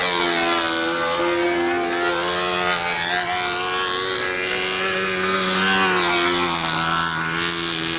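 A control line model airplane's small glow engine runs rich with a steady, high, buzzing drone that rises and falls slightly as the plane circles, loud and continuous throughout.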